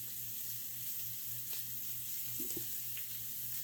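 A ribeye steak fries in a pan, making a faint, steady sizzle with a few brief clinks and pops as it is flipped, and no voices.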